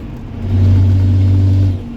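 A 2006 Cummins diesel truck drives with a broken exhaust, giving a deep droning rumble that swells, holds steady and loud for over a second, then eases off, with no talking.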